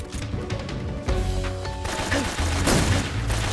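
Sustained loud gunfire bursts and impacts in the stealth-action video game Metal Gear Solid 3: Snake Eater, a dense, continuous barrage with no talk.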